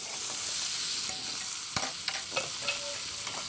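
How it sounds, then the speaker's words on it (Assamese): Tomatoes frying in a pan, a continuous bright sizzle with occasional spatula scrapes and taps as they are stirred, close and fairly loud. "আৰু এতিয়া দিছোঁ মই বিলাহী আৰু বিলাহীখিনি মই ভালদৰে ভাজি ল'ম"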